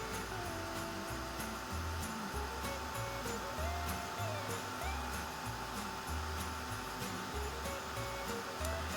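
A heat gun blows a steady, loud airflow roar, melting embossing powder for a winter diorama sky; the whir runs continuously throughout with no speech.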